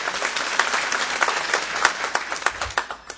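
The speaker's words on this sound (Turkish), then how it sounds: "Bu alkışlar böyle azalıyor." Audience applause at a professional chamber gathering in Istanbul, dense clapping filling the room steadily for a few seconds without a break, moderately loud.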